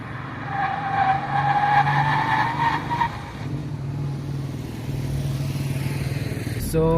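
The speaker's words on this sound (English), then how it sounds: "So you guys saw the 100 to 0 braking test." A 2019 Honda Civic 1.8 i-VTEC with ABS braking hard from 100 to 0, heard from inside: engine and road noise with a whining tone early on, then a steadier low rumble as the car slows.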